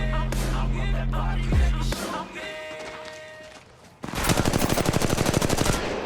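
Rapid automatic gunfire from the mobile battle royale game Apex Legends Mobile comes in bursts, with a dense, loud string of shots near the end over game effects.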